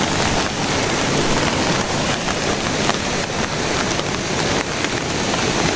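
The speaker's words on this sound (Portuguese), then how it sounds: "essa trovoada, né, essa chuva toda, ela veio durante o dia" Heavy rain pours steadily and loudly onto a rural smallholding during a daytime thunderstorm, a dense unbroken wash of water close by with no voices.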